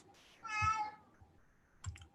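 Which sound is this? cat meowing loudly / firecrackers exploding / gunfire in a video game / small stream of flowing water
cat meowing loudly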